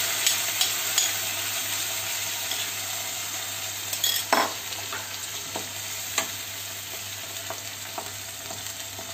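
Onion gravy fries in a pan for a restaurant-style veg Kolhapuri, a soft steady sizzle broken by several sharp scrapes and clinks of a spoon stirring against the pan.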